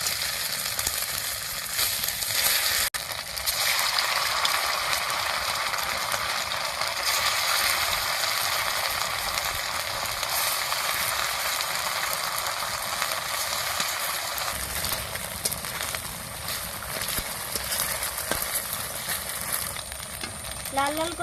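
Pieces of a semolina, potato and flour snack fry in hot oil, giving a steady, close, continuous sizzle and crackle that runs throughout at an even level, with a few faint clicks of handling near the end.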